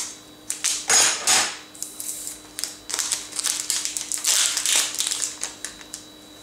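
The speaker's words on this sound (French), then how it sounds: "Alors on va découper les sachets." Tea bags are cut open with scissors, a series of crisp, close snips and crinkles of paper, irregular in rhythm, with no talking.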